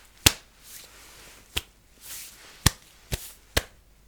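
Five sharp hand claps spaced unevenly over about four seconds, close and crisp against a quiet room, with no talking.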